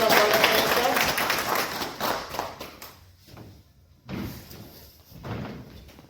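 An audience at a trade association honors ceremony applauds an honoree in a burst of clapping that starts loud and dense, then thins into scattered, fading claps with short pauses and a few voices.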